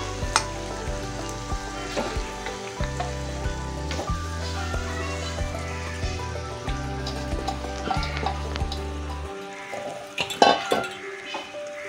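Meat added to a hot pan sizzles steadily up close under stirring and scraping, over a continuous low droning hum that cuts out near the end, followed by a few sharp clinks.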